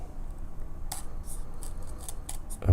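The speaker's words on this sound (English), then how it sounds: "I must have left my knife downstairs, so I'll just use a pair of scissors here" A pair of scissors is used to open a package, giving several quick crisp snips spread across the moment and ending in a heavier thud of handling, with no talk.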